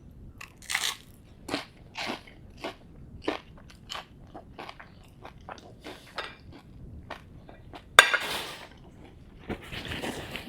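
Toast spread with butter and 100% peanut butter being bitten and chewed, giving a series of sharp, close crunches at an irregular pace with louder crackly bites near the end.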